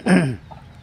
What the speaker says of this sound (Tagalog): Ito po palang manok na ito is galing sa kaibigan natin.